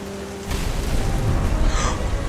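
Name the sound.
thunder and rain in the video game What Remains of Edith Finch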